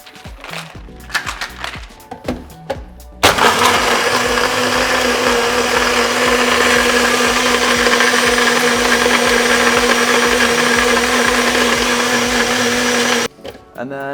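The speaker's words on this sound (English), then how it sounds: "And then just blend it up exactly the same way." A few clattering knocks, then a blender roars on loud and steady, grinding ice for a mango daiquiri for about ten seconds before cutting off abruptly.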